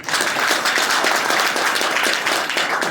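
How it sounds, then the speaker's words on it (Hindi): Loud, sustained applause from a crowd at a closing session of a team training event, with dense, even clapping filling the whole stretch. "मैं चाहूंगा अपनी प्यारी सी टीम के लिए एक जोरदार ताली।"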